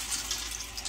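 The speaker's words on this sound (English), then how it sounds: "And I'm gonna add cold water." Cold water running from a tap onto rinsed peas in a pot, a steady close splashing pour with no talking.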